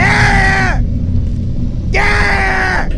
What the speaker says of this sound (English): These growling sounds you hear are from 6 to 10 yards away,